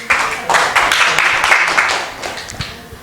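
Steady audience applause at a live Hindi-Urdu poetry performance, a dense wash of many hands clapping at close range that swells and holds for about three seconds without pause.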